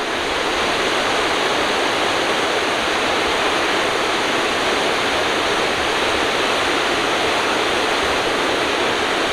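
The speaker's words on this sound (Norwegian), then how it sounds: "Her er det en skikkelig foss." A proper waterfall on the Katnosa river in Nordmarka, Norway, roars in a steady, dense, unbroken rush of water heard close up with no voices.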